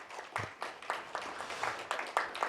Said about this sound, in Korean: 수고하셨다고 다시 한번 박수 한번 크게 쳐주십시오.